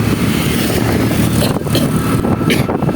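A motorbike engine roars close by, loud and steady for a few seconds, with a slight rise as it nears.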